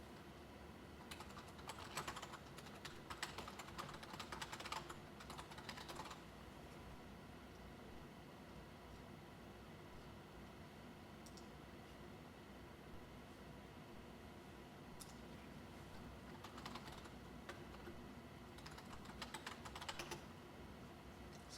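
Faint typing on a computer keyboard in a few scattered bursts of soft, rapid key clicks over a steady background hiss, with no voices.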